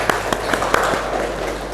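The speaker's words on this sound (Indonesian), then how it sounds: "Silakan beri tepuk tangan." Classroom applause, a short burst of distinct claps at first that blurs into a steady patter over a low hum.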